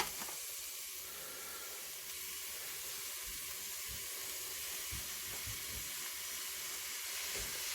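Beef mince sizzles faintly as it is broken into a hot pan, a low continuous hiss and crackle with a few soft thumps from the pieces landing, no talk.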